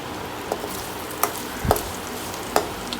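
Green chilies sautéing in a pan for mango pachadi: a steady close sizzle of frying oil, with occasional spatula taps and scrapes as they are stirred, and no talking.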